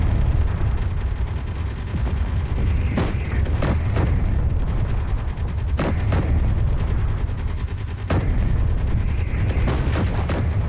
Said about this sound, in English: Did he shoot like a missile at me?